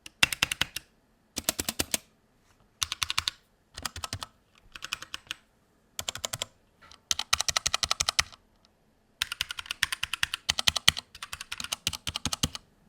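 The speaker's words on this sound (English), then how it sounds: "Here's a quick comparison to my Poker 3." Bursts of typing on a Poker 3 mechanical keyboard with Cherry MX Brown switches and dampener rings, close and clear, coming in short rapid clusters separated by brief pauses, with no voices.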